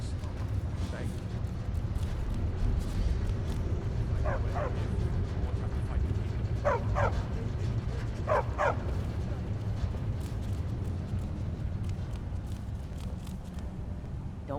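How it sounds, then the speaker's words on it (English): Several dogs barking in short paired bursts and whimpering inside a Markarth home in the Skyrim video game, over a steady low background hum. "Don't mind the dogs. They get anxious when they haven't had dinner."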